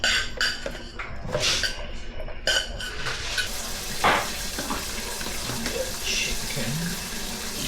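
Dishes being washed under a running kitchen tap, with a steady splash of water broken by clinks and scrapes of plates and utensils, close and fairly quiet.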